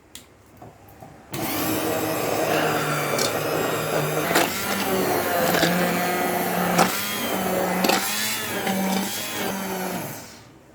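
A kitchen mixer grinder blends tomato, lentil and pumpkin soup, starting abruptly with a loud, close, steady motor whine that pulses through several brief dips and surges before cutting off.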